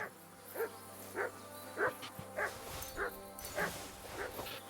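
A dog in the video game Kingdom Come: Deliverance II barks repeatedly in an even rhythm, about eight short yips spaced evenly, over a quiet steady background hum.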